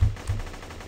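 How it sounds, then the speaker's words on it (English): Mounted machine gun in the GunCraft video game, two heavy low thumps in quick succession followed by a fading rumble, short and fairly loud. "where did this guy get this mounted machine gun?"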